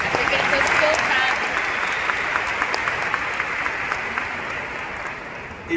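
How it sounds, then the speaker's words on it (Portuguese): Sustained applause from a large audience at a Dunamis conference gathering, dense and steady from start to finish with voices mixed in underneath. "Vamos dar uma salva de palmas pro meu amigo."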